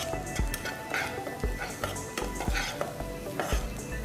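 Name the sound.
spices frying in oil while being stirred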